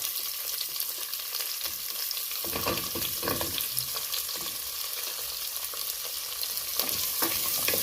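Onions and shallots sautéing with ginger in a pan, a steady close sizzle with scattered scraping stirs, louder bursts midway and near the end, no voices.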